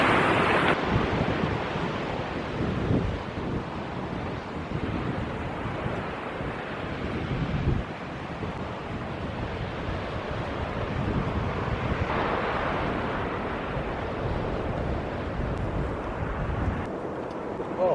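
Surf on a remote North Devon beach rolls in as a broad, continuous roar, mixed with gusting wind buffeting the microphone, fairly loud and steady with swells rising and easing.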